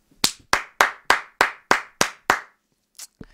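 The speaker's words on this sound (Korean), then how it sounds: "정말 대단한 박수를 한번 올립니다" Eight sharp, evenly spaced hand claps ring out in a steady rhythm at a StarCraft esports league broadcast, close and crisp, followed by silence and two faint taps.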